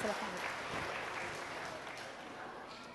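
A church congregation at a Sunday school service in Surabaya claps hands together, a steady, fairly quiet patter of many hands with a voice faintly underneath.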